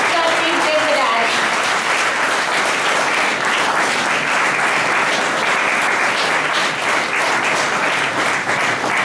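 A crowd at an engineering faculty development program inauguration welcomes the chief guest with a full, sustained round of applause, dense steady clapping from many hands at even loudness, with a faint voice briefly audible at the start.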